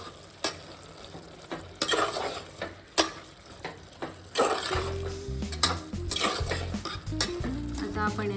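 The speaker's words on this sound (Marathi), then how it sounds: "हे सगळं आपण मिक्स करून घेणार आहोत." Vegetable pulao ingredients with coriander are stirred and mixed in a pan, a spoon scraping and clinking against the pan over a soft sizzle, close up, with a low hum rising partway through.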